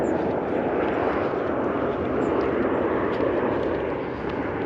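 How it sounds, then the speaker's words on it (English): An aircraft on the flight path into Edinburgh Airport near Cramond Island rumbles overhead as a broad, steady roar that stays loud and even throughout, with no talking. "You can maybe hear those aircraft. We're just off the flight path to Edinburgh Airport."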